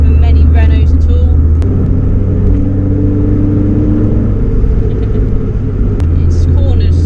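A modified Renault Clio 182 engine drones steadily at low pitch while driving, a loud continuous rumble with a slight shift in tone midway, heard from inside the car with faint voice-like sounds at moments.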